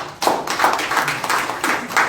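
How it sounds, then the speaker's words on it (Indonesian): A church congregation claps hands together in a burst of several quick, loud claps that continue through the moment. "Yang setuju, tepuk tangan buat kita."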